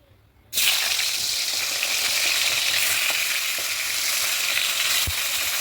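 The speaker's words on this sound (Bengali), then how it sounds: "মাছের মাথাগুলো এবার আমি এক এক করে ভেজে নেবো। তেলটা আমার গরম হয়ে গেছে।" Fish heads drop into hot oil in a wok, setting off a sudden, loud, close sizzle that holds steady and dense for several seconds, with an occasional crackle and no voices.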